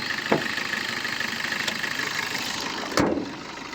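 A 2019 Maruti Suzuki Vitara Brezza VDI automatic with a diesel engine idles at a steady, even rumble, with a couple of brief sharp clicks and no voices.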